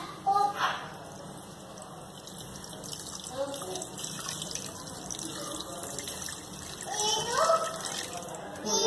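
Water poured into minced meat in a cooking pot while making shami kabab, a soft splashing gush running under a speaking voice, with louder bursts near the start and end.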